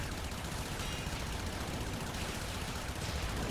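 Soma Prime assault rifle firing in Warframe, a dense, continuous automatic stream of rapid shots with no pauses, loud and close, and no talking.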